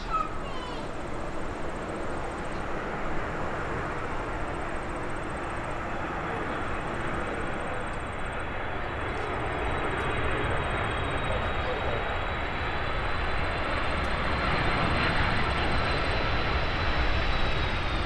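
A Delta Airbus A330 heavy on final approach for landing at Minneapolis gives a steady, broad jet engine roar that stays loud and continuous throughout.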